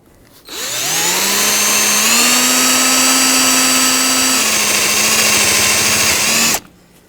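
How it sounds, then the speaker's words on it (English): A power drill whines loudly and steadily for about six seconds, drilling out a rivet on the rear backing plate of a 2009-2011 Ford F-150, its pitch dipping slightly as it bites into metal, then stops abruptly. "there are 2 rivets, one on each side here, that we have to drill out"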